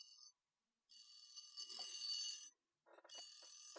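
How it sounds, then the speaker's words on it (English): An electronic alarm sounds at 8 o'clock in repeated shrill, ringing bursts with short silent gaps between them, fairly close and clear, with no talking. "Yep, there goes the alarm."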